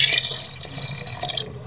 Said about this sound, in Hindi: और इसके साथ हम इसके अंदर पानी ऐड करेंगे। इसको पतला करेंगे।